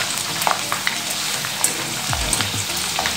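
Sliced potato chips deep-fry in hot oil with a dense, bubbling sizzle and crackle, close and continuous, with a soft clunk partway through and no talking.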